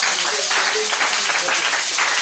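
Church congregation applauding together in a dense, steady wash of clapping, with voices mixed in throughout.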